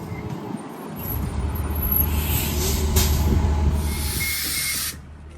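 An Omniride commuter bus near Woodbridge idles with a deep engine rumble that swells, then its air brakes release a sharp, loud hiss before it cuts off abruptly.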